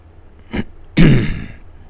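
Someone close by gives a short cough, then a longer, rough clearing of the throat.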